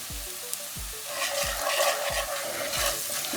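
Spices, including methi seeds, red chili powder, coriander powder and salt, stirred with green chilies in a pan over a low flame, with a steady sizzle and a spoon scraping in a regular rhythm, loud and close, no talk.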